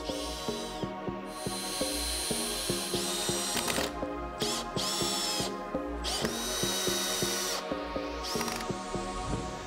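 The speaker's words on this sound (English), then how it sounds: "You want to pre-drill the holes before screwing to give it a cleaner look." A power drill drives screws into the base of a handmade wooden toddler bed, whirring loudly in repeated bursts with brief pauses and motor pitch changes, close up and with no talking.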